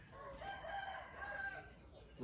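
A young Burmese gamecock rooster, seven to eight months old, crows on a farm, one drawn-out crow sounding close and moderately loud over faint background noise.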